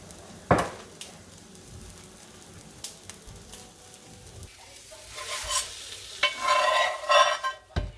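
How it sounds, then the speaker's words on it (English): An egg and sprouts fry in a pan: a few sharp utensil clicks and scrapes against the pan come first, then a louder crackling sizzle swells near the end. "Then we'll just flip that egg over and let those sprouts get nice and warm and toasty."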